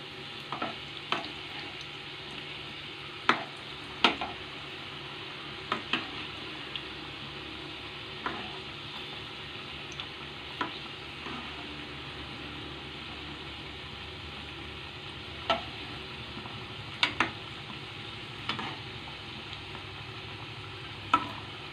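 Vegetable momos frying in a pan, a quiet, steady sizzle punctuated by scattered sharp clicks and scrapes as they are turned over.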